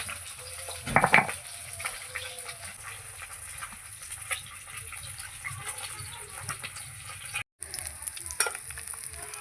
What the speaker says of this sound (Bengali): এই মাছগুলো ভাজা হয়ে গেছে, তুলে নিচ্ছি।